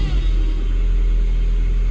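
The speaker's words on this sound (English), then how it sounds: "Run the car for about 10-15 seconds." A 2011-2015 Mini Cooper Roadster 1.6 petrol engine idles up close in a loud, steady rumble with a slight rev at the start.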